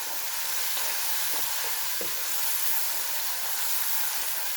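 Ginger-garlic paste fries with browned onions in a pot as a dense, steady sizzle and hiss, with a few soft stirring taps over the continuous frying noise.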